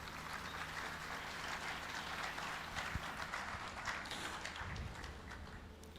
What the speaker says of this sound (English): Can we welcome Chigozie Ogwo with a round of applause.